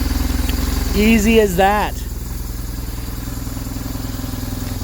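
A 1997 BMW R1100 touring motorcycle with about 96,000 miles idles in a steady low thrum, close and loud, while someone speaks briefly over it.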